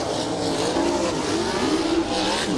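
Sprint cars roar around the dirt track at the Indianapolis Motor Speedway during a USAC warm-up lap, a loud, steady blend of engine drone filling the whole moment.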